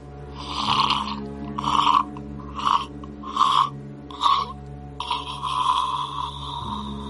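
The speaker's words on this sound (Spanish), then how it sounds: "Otro ronquido largo y entrecortado." A sleeping person's long, broken snore repeating in five rough, rasping pulses at a steady rhythm, then one drawn-out wheezing breath at the end, close and loud over a low steady hum.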